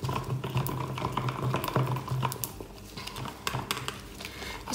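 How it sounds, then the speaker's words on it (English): Pigment being stirred into resin in a mixing cup, a steady soft scraping and sloshing with faint ticks that continues throughout, close and fairly quiet, with no talk. "Just wanna make sure you really do mix your pigments in well."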